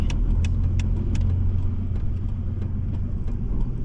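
A car drives slowly and maneuvers into a parking spot, its engine a steady close rumble with a few sharp clicks and rattles early on, no voices.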